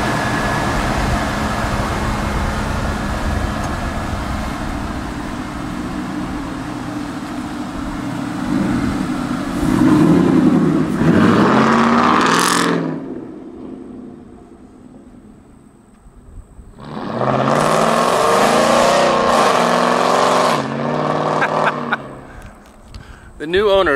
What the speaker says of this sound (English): I mean, that truck sounds so good.